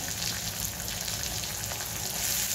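Dried Bombay duck (bombil) frying in a generous amount of oil, a dense, even crackling sizzle heard up close and unbroken throughout, with no voices.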